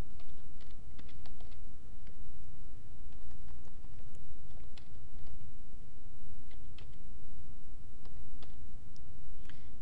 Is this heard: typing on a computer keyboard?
yes